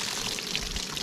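Water pouring steadily out of a water jug punctured by a .44 Magnum bullet, a continuous close splashing trickle.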